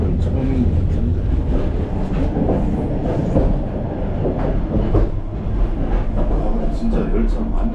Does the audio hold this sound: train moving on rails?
yes